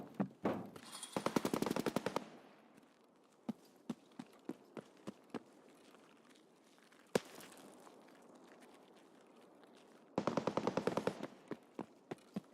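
AK-pattern 7.62 rifle fire in Escape from Tarkov on the Reserve map: two loud, rapid automatic bursts at the start and end, with scattered single shots and distant cracks between them, no talk.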